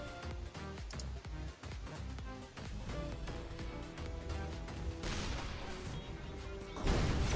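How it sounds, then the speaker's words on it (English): Fireworks weapon exploding in the artillery video game ShellShock Live, a rapid string of crackling pops and bangs building to a louder burst near the end. "Okay, you used fireworks to kill me"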